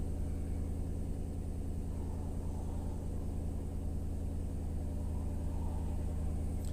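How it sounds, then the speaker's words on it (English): A 2005 Nissan Armada LE with a 5.6L V8, suspected of a cylinder 8 misfire, idles with a steady low rumble and even pulsing hum, close and constant with no talk. "I'm gonna let it idle here a little bit"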